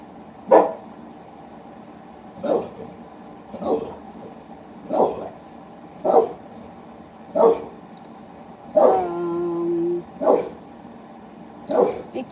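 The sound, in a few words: dog barking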